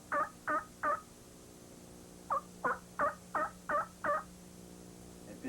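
A human voice imitates a turkey chop call, a few sharp clucking chops, then a pause, then a longer run of evenly spaced chops, clear and close with a faint hum underneath.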